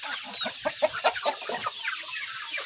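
Native chickens and a rooster released on a farm, clucking and squawking in quick irregular bursts, a few birds close by over a faint outdoor background.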